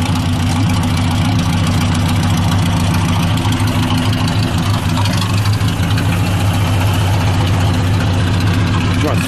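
A Ford NAA tractor engine idling outdoors, a loud, steady low rumble with an even, throbbing exhaust pulse that holds continuously throughout without changes in speed.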